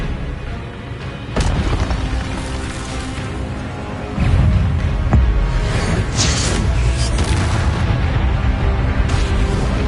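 An Expelliarmus spell is cast in the video game Hogwarts Legacy, with heavy booming magical blasts and crackling impacts over a dense combat soundscape, loud and close, several hits in succession.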